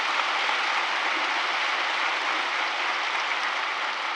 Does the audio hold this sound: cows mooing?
no